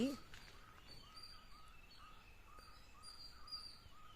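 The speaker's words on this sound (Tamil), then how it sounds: "இந்த பறவைங்க சத்தம் மட்டும்தான்" Faint birds chirp in short, repeated calls over a quiet outdoor background. The calls sit distant and soft, with no talking.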